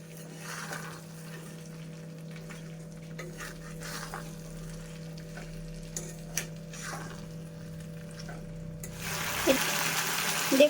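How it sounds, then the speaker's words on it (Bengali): Lightly fried long beans stirred into spices in a pan, giving a steady low sizzle and hum with occasional scraping clinks of the spatula, close by, plus a brief louder burst near the end; no voices. "এগুলো মশলার সাথে ভালো করে মিশিয়ে নেব ভালো করে নাড়িয়ে দেবো"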